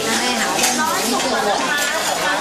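Dakgalbi is stir-fried at a Korean restaurant: metal utensils clatter and scrape on a hot pan, loud and close, under steady sizzling and the chatter of nearby diners.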